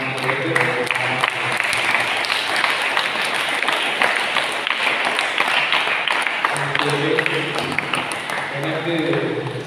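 An audience applauding steadily throughout, a dense, loud wash of clapping with a voice speaking over it toward the end.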